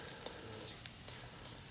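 Crushed garlic sizzling in oil in a pan for carne asada fries, a dense close frying hiss with a few light clicks of a utensil mixing it.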